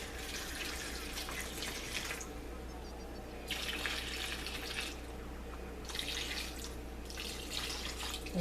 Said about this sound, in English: even you can see how I'm pouring the gravy even on top